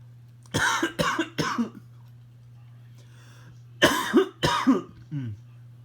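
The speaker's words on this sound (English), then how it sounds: "Sorry about me coughing there." A person coughs in two bursts, three harsh coughs then two more and a smaller one, close and alone over a steady low hum.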